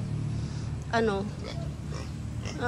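A pig grunts and oinks in a garden setting, short nasal calls rising over a steady low background hum, with a person talking nearby.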